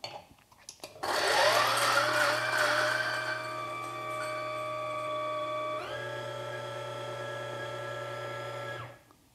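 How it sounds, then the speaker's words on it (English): Lagom P100 coffee grinder purging a handful of beans, a steady close motorized whir with crunching that starts abruptly, drops pitch slightly midway as the beans clear, then runs evenly before cutting off. "So the first thing I'll do is actually purge this grinder with a handful of beans."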